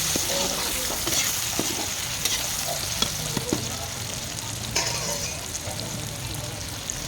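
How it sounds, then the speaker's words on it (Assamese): Potatoes fry in oil seasoned with salt and turmeric, a steady broadband sizzle running throughout with scattered sharp pops and occasional scrapes of a stirring utensil, close and moderately loud, with no speech. "আলুখিনি অকণমান ভাজি লৈছোঁ, তাতে নিমখ আৰু হালধি সোৱাদ অনুসৰি দি দিছোঁ"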